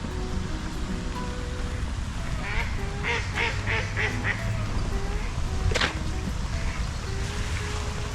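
Several ducks quack in a rapid burst of calls, fairly close, over steady outdoor noise like rushing water, in a park in Victoria, Canada.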